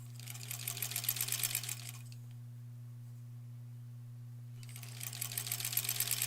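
A sewing machine stitches in rapid bursts, pauses for a couple of seconds, then resumes its fast rattling over a steady low motor hum.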